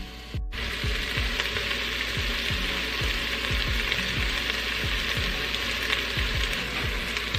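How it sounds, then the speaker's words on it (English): Beef stew meat browning in an Instant Pot: steady, close sizzling and spitting fat with soft crackles throughout, without talking. "we're gonna let that brown on one side, and then we'll flip it over."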